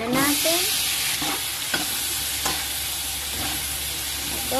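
String beans (sitaw) fry for adobo in a pan, a loud continuous sizzle with a few stirring scrapes and knocks, no talking.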